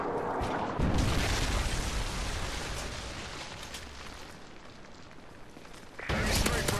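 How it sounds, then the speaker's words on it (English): Predator missile strike from Modern Warfare 3 multiplayer: a heavy booming blast at the start, a long rumbling roar of battle noise under it, then a second loud burst near the end. "Friendly predator missile inbound."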